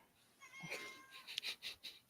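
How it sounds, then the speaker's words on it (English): A cat meows insistently for attention indoors, giving a few short, close, moderately loud calls in quick succession with no talk over them. "Kitty! She wants me to pay attention to her."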